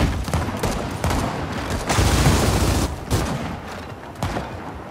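Rapid sniper and rifle gunfire from the video game Gears of War 4, a dense, loud fusillade of overlapping shots and bursts with brief lulls, no voices present.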